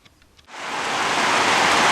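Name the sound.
heavy rain pouring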